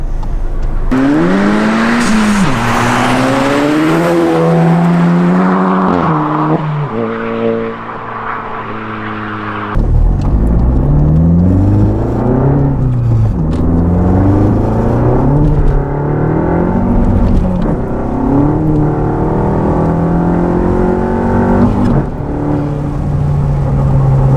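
A VW Golf Mk7 GTI four-cylinder with an aggressive catback exhaust revs loudly and repeatedly, deep sweeping rises and falls with a harsh, raspy edge, a brief lull mid-way before more sustained, close revving.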